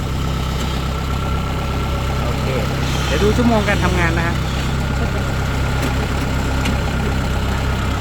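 A 2011 Kubota DC68G combine harvester engine idling in a steady, loud, continuous drone; someone speaks over it.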